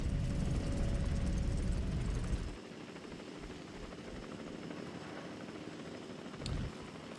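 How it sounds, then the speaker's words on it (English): Helicopters fly in the Jurassic World Evolution 2 video game, a faint, steady rotor rumble that softens partway through, with a brief swell near the end. "Oh, hurry up, helicopters."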